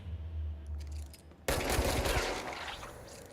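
Gunfire erupts in the Indiana Jones video game: after a quiet stretch, a loud sudden burst of shooting starts and carries on as a dense, sustained barrage to the end.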